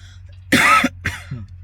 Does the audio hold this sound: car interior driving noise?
no